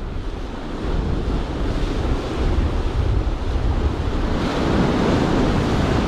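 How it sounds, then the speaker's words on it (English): Big rolling ocean waves on a fast-running tide surge and break on the shore where bass are being fished with lures, a loud continuous roar and wash that builds and recedes, with wind buffeting the microphone. "It's got to be careful of those big rogue waves that come in,"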